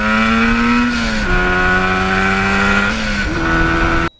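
Yamaha RD400 two-stroke motorcycle engine pulling hard through the gears, a loud buzzing drone whose pitch climbs then drops at two gear changes before cutting off abruptly near the end.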